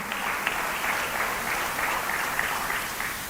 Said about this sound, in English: We've a big round of applause